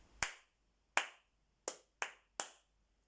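Five sharp, isolated hand claps in an uneven rhythm, close and crisp, with silence between them and nothing else audible.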